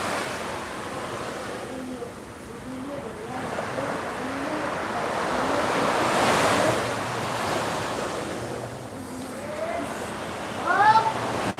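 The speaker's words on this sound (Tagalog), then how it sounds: "Ang lakas ng alon ngayon" Strong ocean waves crash and surge against the shore in loud, swelling rolls under steady wind, with a cat meowing repeatedly and a voice briefly heard.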